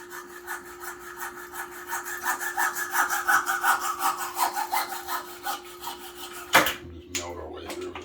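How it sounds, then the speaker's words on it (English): A hacksaw cutting through PVC pipe in a shop, a rhythmic back-and-forth rasping at a steady pace, close and clear, ending with a sharp clunk as the cut finishes. "We'll just melt our way through with the hacksaw."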